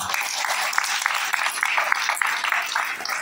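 Steady applause from a crowd at a book fair's opening speech, many hands clapping continuously at moderate volume.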